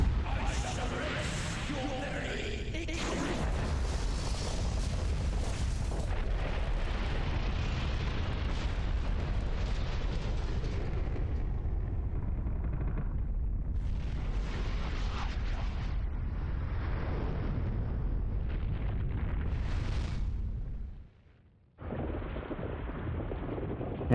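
Explosions in the video game Asura's Wrath, a dense, roaring wall of booming blasts that rumbles almost continuously for over twenty seconds, dropping briefly near the end before another burst.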